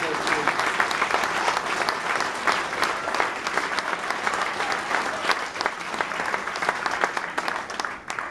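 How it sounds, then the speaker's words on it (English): Guests at a club centenary dinner and dance give a long, steady round of applause with many overlapping claps that fades slightly near the end. "So give them a round of applause."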